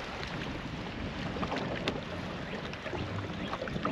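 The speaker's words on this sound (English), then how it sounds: "A little windy, a little choppy." Steady wind gusts buffet the microphone over choppy water slapping a small fishing boat on a cloudy, cool day, a constant close rush with no talk.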